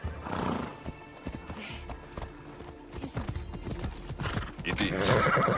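A horse gallops in the video game Assassin's Creed Odyssey, with a steady, close clip-clop of hooves and an occasional whinny, mixed with voices and exclamations over light ambient game sound.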